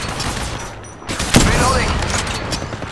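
Gunfire in the mobile battle royale game Apex Legends Mobile, a dense burst of rapid shots starting partway in and continuing loudly over busy in-game ambience, with a voice callout heard beneath.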